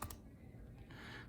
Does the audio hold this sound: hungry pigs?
no